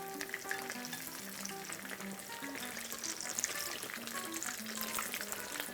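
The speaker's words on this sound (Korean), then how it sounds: "이런 튀김 종류는 이렇게 튀기다 보면 온도가 다시 내려가요." Battered eggplant deep-frying in hot oil, egg-free batter, a dense steady crackle and sizzle with fine popping bubbles throughout, moderately loud and close with no talk over it.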